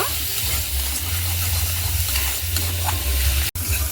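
Ginger, chilli and cumin pastes with turmeric sautéed in a pan, a steady close sizzle with scraping stirs throughout and a brief sharp clack near the end.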